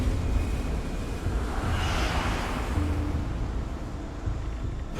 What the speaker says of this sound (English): it's not just the waves and the wind